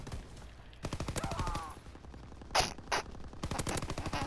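Rapid automatic gunfire in a video game, fast rhythmic bursts of shots broken by a brief pause and a couple of louder explosive blasts, close and loud throughout.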